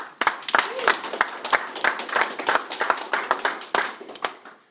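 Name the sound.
audience clapping at graduation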